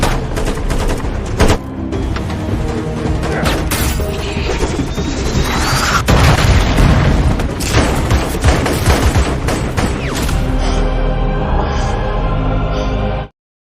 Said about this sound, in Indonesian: Dan kini mereka harus beradu tembakan dengan pasukannya si Margaret